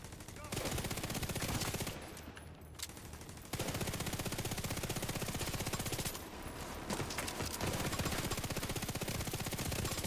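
A video game turret machine gun fires long, dense, rapid bursts, loud and close, broken by two brief pauses.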